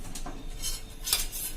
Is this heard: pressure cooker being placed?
yes